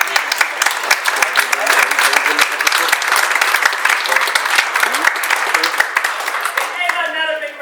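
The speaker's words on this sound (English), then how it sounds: "And another big round of applause" Sustained audience applause at a town hall meeting about replacing a Dominick's grocery store, dense steady clapping filling the room throughout, with a voice starting to speak over it near the end.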